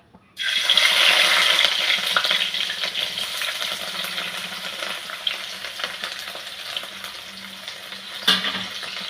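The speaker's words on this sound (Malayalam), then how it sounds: "ഇഞ്ചി ഇടാം, നമുക്കതൊന്ന് വറക്കാം." Chopped ginger fries in a pan with a steady, close sizzle and crackle, with occasional stirring scrapes and no talk.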